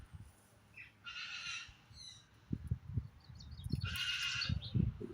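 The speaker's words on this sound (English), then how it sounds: "this sound is the cockatoo" A cockatoo living in an outdoor aviary gives two harsh, raspy screeches, fairly distant, separated by quiet, while low thumping and rustling noises build up nearby.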